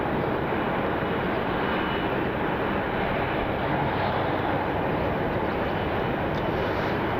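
A United Boeing 737 MAX 9 airliner pushes back at Cleveland Hopkins International Airport, a steady broadband jet engine roar holding at constant level throughout with no talk.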